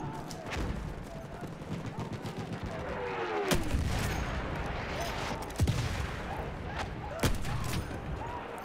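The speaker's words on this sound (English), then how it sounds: "Just explosions all the time." Battlefield 1 combat brings repeated gunshots and explosions, sharp cracks and booms scattered irregularly over a constant rumbling battlefield din, some shots close and loud.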